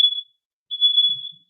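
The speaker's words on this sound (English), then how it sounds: "the fire alarm going on" Smoke alarm going off indoors, sounding two sharp, piercing high-pitched beeps, a short one followed by a longer one after a brief gap, loud and close with no talking.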